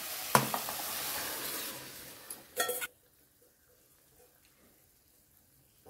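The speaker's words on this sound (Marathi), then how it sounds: "आता आपण याचे शिजलेले मूग घालूया।" Cooked mung beans drop into a hot pan of frying masala, sizzling loudly and steadily with a sharp splashing burst as they go in, then a stirring scrape before the sound cuts to near silence.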